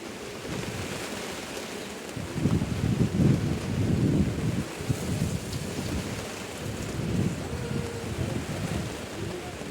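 Heavy rain pours steadily outside a goat shelter, a dense continuous hiss and patter with low rumbling swells, fairly loud and unbroken with no talking.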